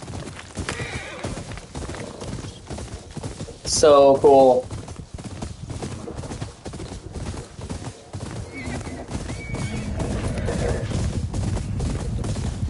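Horses clip-clop at a run in the video game Ghost of Yotei, a loud whinny cutting through midway over steady hoofbeats, with a voice talking and game music beneath.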